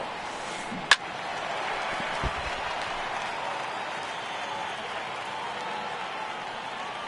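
Crowd roars in a PS4 baseball video game as a deep fly ball nearly leaves the park before curling foul; a sharp crack comes early, then a steady, broad crowd noise holds throughout.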